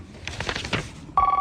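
A telephone rings during a call: after a brief muffled rustle, a loud electronic ring tone starts abruptly and holds steady and close.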